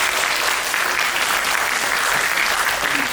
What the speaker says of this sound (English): if we can all just give a round of applause to Mr.